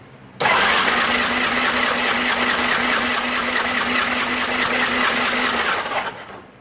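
The engine of a 1986 Honda Goldwing GL1200 cranks over during a compression test on cylinder number 1, a loud, steady rhythmic starter whir with fast pulsing that lasts about six seconds before cutting off.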